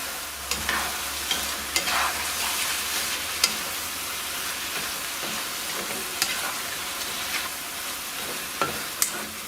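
A frying mixture for san choy bow is stirred with soy sauce and sweet sherry, a steady close sizzle running throughout with occasional sharp utensil scrapes and taps against the pan.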